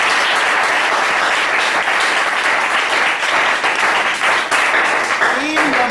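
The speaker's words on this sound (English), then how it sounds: "And I think you need to clap for yourselves." Loud, continuous applause from a seated audience at a gathering, a dense wash of many hands clapping at close range with a voice briefly audible near the end.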